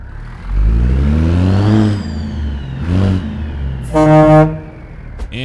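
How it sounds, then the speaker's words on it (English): A heavy truck's Cat C16 diesel engine cranks and fires up in a truck-driving video game, revving loudly with rising whine, then a short horn-like tone, close and prominent. "You listen to the beautiful sound of the Cat C16 firing up."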